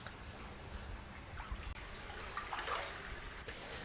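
Water drains out of a tilapia fish pond with a steady trickling, splashing flow, moderately faint and continuous, with a slight clunk partway through.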